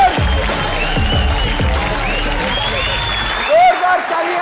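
A studio crowd gives loud applause to welcome the Bigg Boss 17 winner, Munawar Faruqui. Dense clapping blends with thumping music and voices, then swells briefly near the end.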